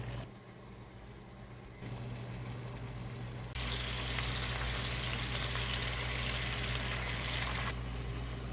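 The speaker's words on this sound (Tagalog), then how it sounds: "Igigisa ko lang muna siya bago ko siya timplahan." Pork and chicken sauté in a pan for adobo, a steady loud sizzle that jumps louder twice as the frying intensifies, continuous with no talking.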